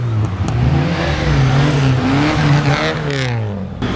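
An old BMW revs loudly and continuously, its engine note rising and falling as it slides sideways through snow on a coned winter drift course, with no talking.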